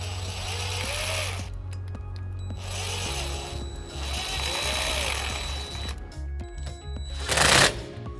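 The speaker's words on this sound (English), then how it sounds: "we're going to take a 5/16 socket and we're going to tighten up this clamp" Socket wrench tightening a clamp on a 2017 Nissan Titan trailer wiring harness: two bursts of steady ratcheting, each lasting over a second, with a brief louder clatter near the end, all over a constant low hum.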